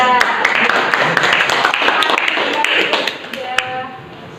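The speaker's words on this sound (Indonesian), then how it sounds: "Beri tepuk tangan dong kelompok 3." Classroom clapping for a student group after their presentation, a dense burst of many hands that fades and thins toward the end, with sharp individual claps standing out near the close.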